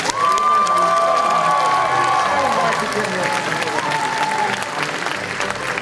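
Sustained audience applause with some cheering for young pageant contestants at the Miss International Asia Pageant 2015, loud and dense throughout, with a faint tonal voice or music line early on.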